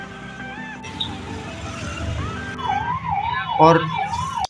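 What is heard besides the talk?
ambulance siren in traffic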